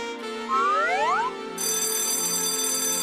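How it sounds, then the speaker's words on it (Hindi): A bright electronic chime sounds once, with rising tones sliding upward, then a steady high ringing tone holds to the end. "घंटी बज गई"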